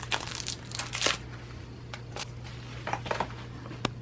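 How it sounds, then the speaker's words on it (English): Packaging around a retinol and oat milk moisturizer tub is crinkled and torn open in close, sharp bursts, with quieter pauses between them. "I'm going to unwrap this and show you"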